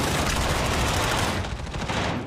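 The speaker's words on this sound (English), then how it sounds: "Gunfire comes in" Rapid, sustained automatic gunfire in a Call of Duty esports match, rattling loudly and continuously, thinning slightly near the end, with no talking.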